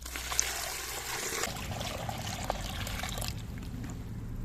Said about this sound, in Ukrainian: Ми заливаємо е, оцей послід е, звичайною відстояною водою